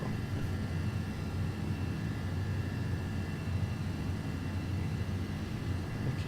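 Simulated MD-11 jet engines from the Rotate soundpack in X-Plane 12 give a steady, even cabin-level roar with a faint high whine on top, unchanging and alone without talk.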